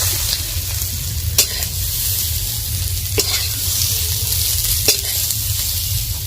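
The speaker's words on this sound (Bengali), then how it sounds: "আমাদের বাড়িতে অনেকেই গাজর পছন্দ করে না, তো তাই আমি গাজরগুলো একটু ভেজে নিলাম।" Carrots sizzle steadily in a hot pan while being stirred for khichuri, a loud close frying hiss with several sharp scrapes of the spoon against the metal spaced a few seconds apart, and no voices.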